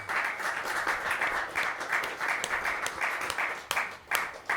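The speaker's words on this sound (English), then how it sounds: "Please let's start off with a big round of applause" Audience applause at a live music night, a dense and continuous wash of clapping in pulsing waves, with a few sharp individual claps standing out near the end.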